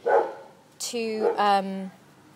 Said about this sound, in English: that's my dog on the roof